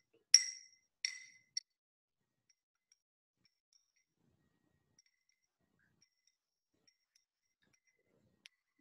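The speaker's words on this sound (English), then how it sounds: "I'm going to drop the sugar in. Okay, and I'm going to stir it." A teaspoon stirring sugar into a cup of tea makes two quick ringing clinks against the cup and a lighter third tap, then near silence and one faint final tick.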